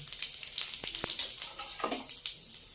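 Cardamom, fennel seeds and cumin with star anise and curry leaves fry in hot oil in a pan, giving a steady close sizzle broken by a few sharp pops and a stirring scrape.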